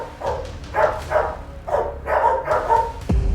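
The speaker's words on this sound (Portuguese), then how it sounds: "Eles começaram a latir muito, a uivar," Street dogs bark in repeated bursts, close and loud, with yips mixed in over about three seconds, ending in a sharp low thump.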